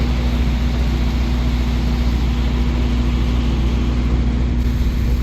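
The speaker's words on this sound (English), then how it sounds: "You hear the engine running." The engine of the Valley Gem sternwheeler boat drones steadily and loudly at close range, a constant low rumble with no talk over it.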